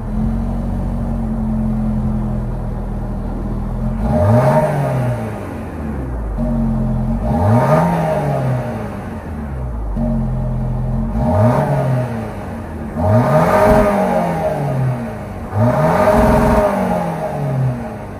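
A 2024 Lexus NX 350 F-Sport with a 2.4-liter turbocharged four-cylinder and dual exhaust idles, then revs up repeatedly, five rising and falling throttle blips separated by steady idle, close and fairly loud.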